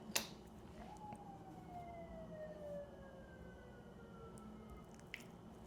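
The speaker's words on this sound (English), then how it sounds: "okay, I think the sirens are now done." Emergency vehicle sirens pass outside at a distance, a faint wailing tone sliding slowly downward over several seconds against a low background hum, with a couple of sharp knocks near the start and end.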